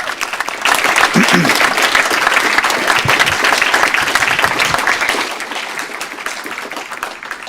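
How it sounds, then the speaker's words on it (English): Sustained applause from an audience at a school board candidate forum, loud and steady for several seconds before tapering off, with a few voices mixed into the clapping. "let's give them a round of applause, please"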